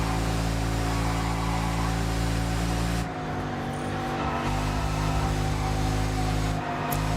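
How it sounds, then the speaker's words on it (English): A car engine roars continuously in TDU Solar Crown during a motorway race, loud and sustained with a shift in pitch midway, like a big turbocharged V8. "It sounds like a big turbocharged Chevy V8."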